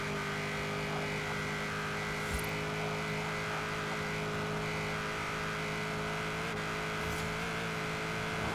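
A car engine hums steadily in Forza Horizon 4 as the car drives onto a motorway, a continuous droning tone with a slight pitch shift near the end, no speech.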